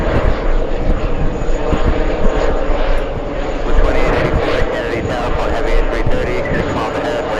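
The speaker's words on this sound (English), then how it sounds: "Let's go over to the Delta 767" Delta Boeing 767 airliner engines roaring steadily at JFK airport, a broad continuous rumble filling the whole stretch with faint wind and background noise.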